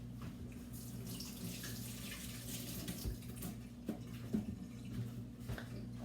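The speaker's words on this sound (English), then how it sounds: "Rinse my hands here." Tap water runs steadily over hands at a kitchen sink while cooking stuffed peppers, a continuous moderate rush with small splashy bumps and no talking.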